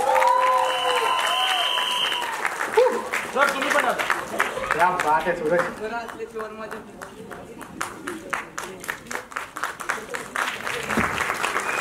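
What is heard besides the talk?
audience applause at trailer launch event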